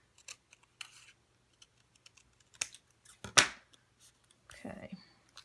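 Scissors snipping through a thin paper napkin in a mixed media craft session, a few sparse close crisp cuts with one sharper louder snip near the middle, quiet between strokes, no talk over it.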